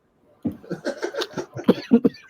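A burst of several harsh coughs in quick succession, close and moderately loud, breaking off with a couple of sharper final hacks.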